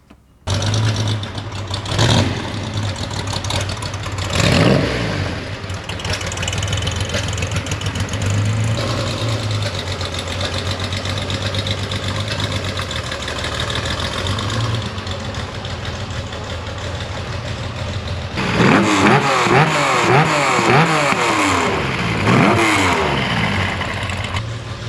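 Clive's race car engine idles roughly, then revs hard several times with sharp bursts, loud and close, ending in a rapid series of high revs rising and falling.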